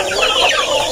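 A flock of farm chickens cluck and squawk continuously at close range, a dense overlapping chorus with no pauses.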